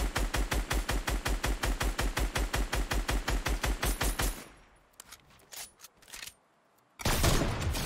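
Automatic gunfire in the video game Fortnite rattles off in a loud, steady rapid burst of about thirty shots over four seconds, followed by scattered quieter impacts and a final brief loud blast, with no talking.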